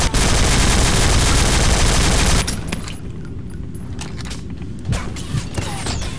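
Loud, dense gunfire in the multiplayer shooter Nuclear Dawn, a continuous burst of rapid shots for a couple of seconds, then quieter scattered shots and mechanical clanks against game ambience.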